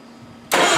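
An Allis Chalmers 310 tractor engine with a flooded carburetor catching and starting, a sudden loud burst of engine noise cutting in after a quiet moment and running on close by.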